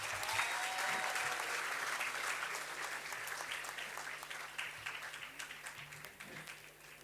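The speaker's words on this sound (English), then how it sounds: "Can we have a round of applause for them?" Sustained audience applause at a university degree certificate distribution ceremony, a dense, steady wash of many hands clapping that slowly tapers over several seconds, with no voices over it.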